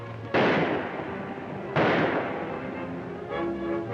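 Two sharp, loud gunshot blasts ring out about a second and a half apart in an old western film, each decaying into a rumbling echo over a low background score.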